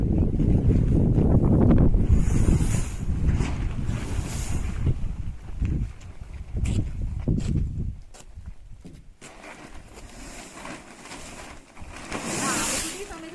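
Light wind blows outdoors near a tarpaulin spread over drying coffee, giving a steady low rumble of gusts against the microphone that eases slightly partway through, with voices faintly present.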